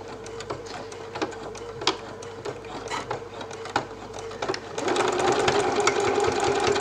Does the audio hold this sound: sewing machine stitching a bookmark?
yes